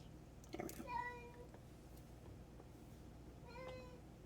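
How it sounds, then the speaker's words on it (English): A cat named Shadow meows outside a door, two drawn-out, tonal cries about three seconds apart, moderately close but soft, over a quiet room hiss with faint background noise. "he's meowing outside the door because my boyfriend's in the bathroom"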